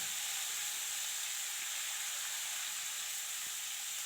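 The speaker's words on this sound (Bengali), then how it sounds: "এবার কেটে রাখা আলু আর সিমটা দিয়ে খুব ভালো করে ভাজা করে নেব" Cut potatoes and flat beans frying in a pan after cumin seeds, a continuous soft hiss of hot oil, steady and fairly quiet with faint occasional taps.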